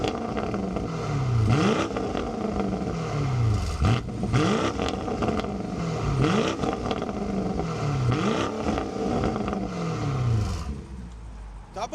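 A BMW X5 M50 with its 4.4-litre twin-turbo engine revs repeatedly, each throttle blip rising and falling in a steady rhythm close by. There is no talk.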